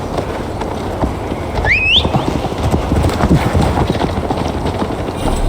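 Horse hooves clip-clop at a riding pace in Assassin's Creed Valhalla, a steady rhythmic trot in the foreground, with a brief whinny-like call near the start and ambient background noise throughout.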